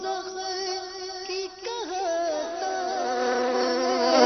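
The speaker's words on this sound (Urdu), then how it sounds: "مکھی" A fly buzzing steadily and close, its whining drone wavering in pitch as it moves, heard alone without talk.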